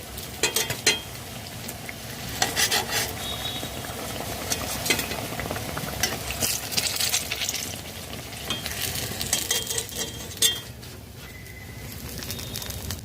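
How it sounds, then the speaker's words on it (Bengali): Eggplant slices frying in a pan crackle and sizzle steadily and close up, with brief louder spatters and light utensil clinks, with no talking. "এইভাবে সব বেগুন ভাজা তৈরি করে নেব।"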